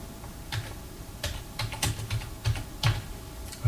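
Steady typing on a computer keyboard while editing text in Windows, a close run of uneven key taps and thumps with short pauses, no speech.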